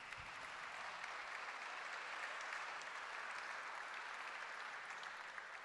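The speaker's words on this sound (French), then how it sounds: "je pense que vous pouvez l'applaudir" Steady audience applause at a keynote speech for a global conference, dense and even throughout, moderately distant, with no talking over it.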